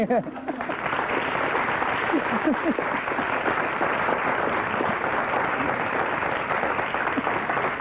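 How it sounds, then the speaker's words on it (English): Audience applause for a woman's husband at an event hall, a dense, steady wash of many hands clapping that carries on for several seconds, with a voice briefly heard over the opening moments. "how about a nice round of applause for her husband?"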